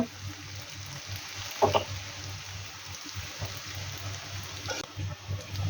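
Frozen carrots and other vegetables sizzle in a frying pan with a soft, continuous crackle, broken by a few sharper stirring clinks.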